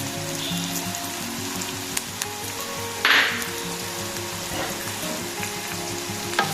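Chili and turmeric powder fry in a pan for a sardine curry, making a steady, close sizzle that crackles throughout with one brief louder burst of frying partway through.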